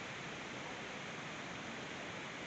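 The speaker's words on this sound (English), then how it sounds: "This is the Wahlang Falls." Wahlang Falls, a waterfall near Cherrapunji in Meghalaya, roars as a steady, dense rush of falling water and spray, continuous and close with no pauses.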